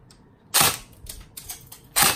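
An upgraded M4A1 airsoft rifle fires in a home garden, with two sharp, loud shots and a few quieter clicks between them, close by and with no talking.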